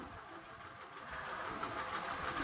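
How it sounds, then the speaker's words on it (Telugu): A motor boat engine drones steadily on the Ganga river at Kashi, a continuous mid-pitched rumble with broadband wash, fairly close and gradually growing a little louder, with no voices over it. "ఇలాగ బోటు పోతూ ఉందన్నమాట గంగా నదిలో"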